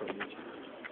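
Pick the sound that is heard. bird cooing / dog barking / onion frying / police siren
bird cooing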